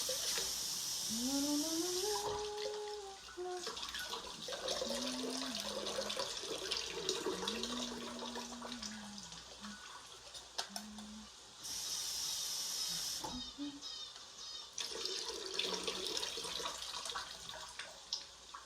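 Red and black beans being rinsed in a sink under a running tap, a steady hiss of water with bursts of stronger spray and occasional tonal squeaks and clatter nearby.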